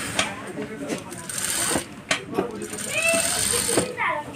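A sewing machine stitches a zip onto a frock in close, clattering runs broken by short pauses. A voice talks over the stitching.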